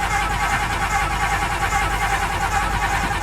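A 1993 Ford F-250 truck engine fails to catch on a cold start, sending out a steady, loud, dense mechanical roar that holds unbroken for the whole stretch, with no voices.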